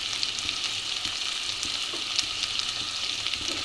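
Garlic and ginger sizzle steadily in a hot pan with tomato, as potato palya cooks, with soft stirring scrapes breaking through the constant close frying hiss.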